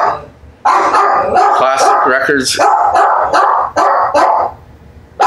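A pet dog barks and yips repeatedly near the microphone while a person keeps talking over it; the barks come in quick bursts with brief whimpering between.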